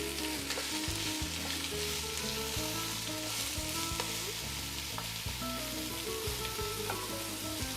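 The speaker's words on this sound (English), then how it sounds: "We're gonna toss in our vegetables. Ooh, very hearty. Okay. Let's give it a stir." Chopped vegetables for a vegetarian chili fry in heated oil in a pot, giving a steady, close sizzle as they are stirred, with music running faintly beneath.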